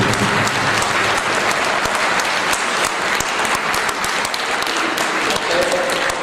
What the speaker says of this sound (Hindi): आपकी तालियां